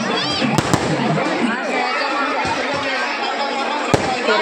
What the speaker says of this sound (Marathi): त्यानंतर फटाक्याची आतषबाजी करण्यात आली